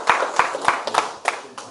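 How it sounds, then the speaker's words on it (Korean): Sparse, separate hand claps from a small audience thanking a lecturer at a public history lecture on dolmens, about six distinct claps spaced unevenly and fairly close. "한번 큰 박수 부탁드리겠습니다."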